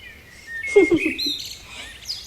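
A small cartoon bird in a forest chirps in a short burst of bright, twittering calls, with a few quick notes close together near the middle.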